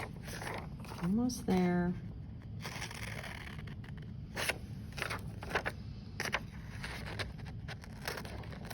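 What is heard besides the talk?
scissors cutting out a paper net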